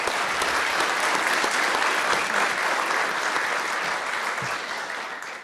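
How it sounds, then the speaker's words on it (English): Loud, sustained applause from a large audience at a medical school honors convocation, a dense roar of clapping that holds steady and then slowly fades toward the end. "All right, let's give them one big round of applause."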